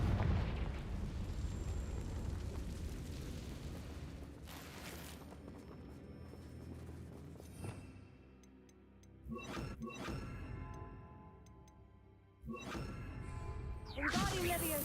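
A Confringo spell explosion in Hogwarts Legacy on the Switch 2: a heavy rumbling blast that fades over several seconds, followed by sharp bursts and whooshing crashes near the end, loud and close.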